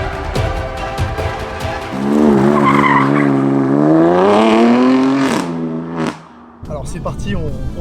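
A BMW M4 F82 with a 431-horsepower twin-turbo six-cylinder accelerates hard nearby, its engine note rising steadily through the rev range before a brief gearshift break, then pulling on again.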